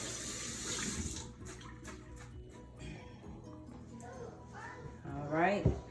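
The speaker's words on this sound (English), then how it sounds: "I give my hands a little wash." Water runs from a kitchen tap as hands are washed, a soft hissing stream that fades and returns, with brief splashes and a voice rising near the end.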